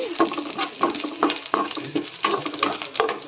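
Onions with fennel seeds and a little black pepper sautéing in a pan for dry fish curry, a soft sizzle under repeated scraping and stirring strokes with occasional metallic clinks, close and steady.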